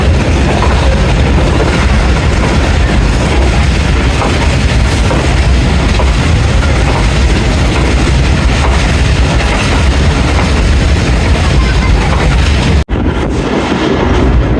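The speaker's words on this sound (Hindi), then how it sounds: "अटकपुर से पास हो रही है ट्रेन हमारी।" Rehman Baba Express passenger train running near Attock, a loud continuous rumble and roar of wheels and carriages heard from on board, with a sharp brief dropout near the end.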